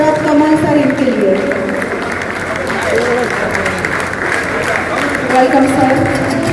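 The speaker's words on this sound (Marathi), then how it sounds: "जोरदार तालियों की आवाज आनी चाहिए फॉर पद्मश्री अचंता शरद कमल सर इनके लिए" An indoor audience gives sustained applause for Padma Shri Achanta Sharath Kamal at the inauguration of a new table tennis hall in Baijipura, with a dense wash of clapping and a voice speaking over it throughout.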